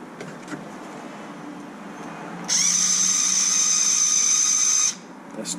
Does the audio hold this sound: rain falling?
no